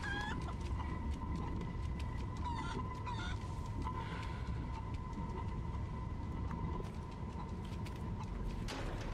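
Chickens cluck and a rooster crows in Resident Evil 4 Remake, with repeated fowl calls and clucks layered over a constant droning game ambience, no talking.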